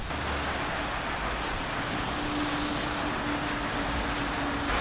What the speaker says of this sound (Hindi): ये देखो भाई बारिश हो रही है, मौसम हो गया ख़राब।